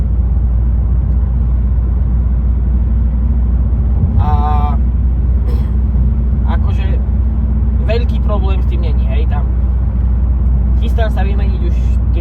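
A high-mileage old car with about 520,000 km on it, its steady low engine and road rumble droning throughout the interior while people talk over it in bursts.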